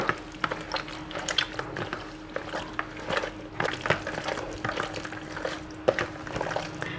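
Raw pork neck being kneaded and squished by hand in a marinade, producing soft wet squelching and slapping in an irregular rhythm, close and fairly quiet with no talking.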